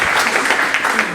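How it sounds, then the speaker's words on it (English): An audience at a lecture on China-India relations claps in a dense, continuous burst of applause, busy and close, lasting about a second. "a special round of applause for the two heroes who stepped in at the last"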